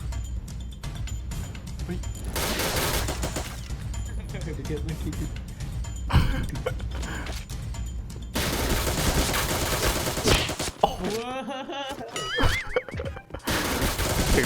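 In a shooting video game, gunfire bursts repeatedly from a close, loud firefight, with rapid volleys and scattered single shots, while excited voices talk over the action and other game effects.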